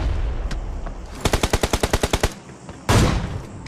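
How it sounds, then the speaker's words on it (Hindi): Automatic gunfire in Battlegrounds Mobile India: a rapid burst of about a dozen evenly spaced shots, loud and close, preceded by a faint distant crack and followed by one heavier blast. "और भाई तभी पीछे से एक फायरिंग आने लगा"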